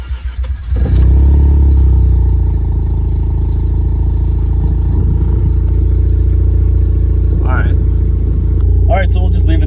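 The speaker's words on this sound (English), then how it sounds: "we'll just start the car and see if it continues to creep" A car engine starts up abruptly and then settles into a steady, loud idle that runs on near and unbroken, with a brief voice near the end.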